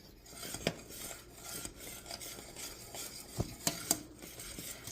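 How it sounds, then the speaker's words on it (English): A spoon stirs caramel popcorn syrup around the bottom of a pot, making quiet, scraping rubs and occasional light metallic clinks against the pot at close range, with no speech. "And then I just kind of stir around it, and you can actually just move it so that you're always constantly stirring the whole bottom of the pot."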